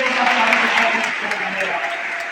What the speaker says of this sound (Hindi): जोरदार तालियां इस बच्चे के लिए